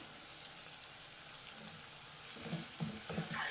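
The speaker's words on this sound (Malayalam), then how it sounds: "ഇതും കൂടെ നമുക്കൊന്ന് ഇളക്കി നല്ലതുപോലെ വാട്ടിയെടുക്കാം" Ginger garlic paste frying with fish pickle masala in a pan, a soft steady sizzle that grows busier toward the end as a spoon stirs and scrapes a few times.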